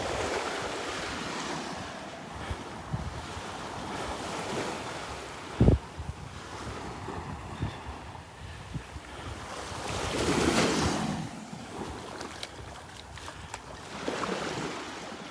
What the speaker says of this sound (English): I'm going to try to warm you up by taking you for a little virtual stroll on the beach